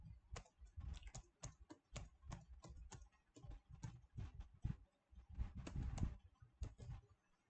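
Keystrokes on a computer keyboard as a password is entered: quiet, close clicks in quick irregular bursts with short pauses between them, ending in a cluster of denser taps.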